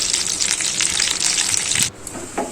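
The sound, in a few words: green chillies and curry leaves frying in hot oil in a pan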